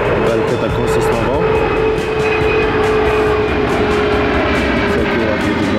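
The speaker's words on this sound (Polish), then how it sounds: "No i nad nami przelatuje samolot, bo jesteśmy w pobliżu Rębiechowa." Airplane flying low overhead near Gdańsk Rębiechowo airport, a loud steady engine roar over a forest in November, filling the whole stretch without letup.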